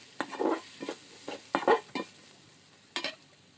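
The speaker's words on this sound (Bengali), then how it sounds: "কিছুক্ষণ এগুলোকে ভেজে নিচ্ছি।" Cowpeas with potato and onion frying in a pan while a spatula stirs them in short scraping bursts, about seven strokes over a soft background sizzle.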